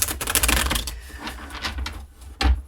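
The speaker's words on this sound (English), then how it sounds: "So one more good shuffle for Aries." Tarot cards riffled and shuffled by hand, a dense run of soft papery flutters fading out, then one sharp final snap of the deck near the end, close and alone.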